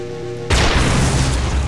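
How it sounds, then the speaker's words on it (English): Giant green explosion from the shock mode weapon in the Doom 2 mod Project MSX, a sudden loud deep boom that cuts off a humming tone and rolls on as a heavy rumbling blast. "Just creates a giant green explosion that does a lot of AoE damage."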